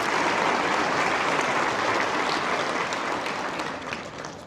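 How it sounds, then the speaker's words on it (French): Dense, sustained applause from an audience at an agricultural hall of fame awards ceremony in Quebec, loud and steady for several seconds before easing slightly at the end. "une bonne main d'applaudissements pour nos partenaires de la catégorie platine"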